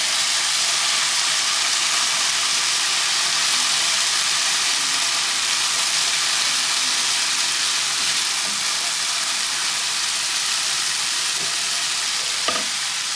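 Ginger and garlic paste sizzles loudly in hot oil with browning onions, a steady dense frying hiss with faint stirring clicks near the end, close and continuous with no talk.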